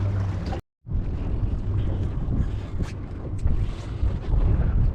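Wind buffets an exposed fishing boat on Southampton Water, roaring loudly and continuously against the microphone, with one brief dropout near the start.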